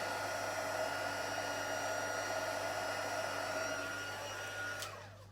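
Heat tool blowing a steady loud airy whir while melting white embossing powder, running continuously before switching off and winding down near the end.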